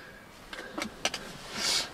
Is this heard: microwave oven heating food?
no